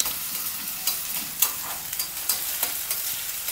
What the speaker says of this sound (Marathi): आता कढाई पण तापलेली आहे, त्याच्यामध्ये टाकणार तेल. कांदा आणि टमाटरला मस्त एकदम शिजवून घेणार